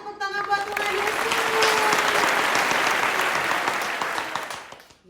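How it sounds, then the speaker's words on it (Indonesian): Applause during an online children's church service runs steadily for about five seconds, a broad dense clatter that fades at the end, with a voice briefly heard at the start and faint whoops mixed in. "kasih tepuk tangan buat Tuhan Yesus"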